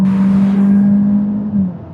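Peugeot 408 with a 1.6-liter inline-four engine cruising at highway speed, a steady low engine drone and road hum from inside the cabin, continuous and fairly loud, easing slightly near the end.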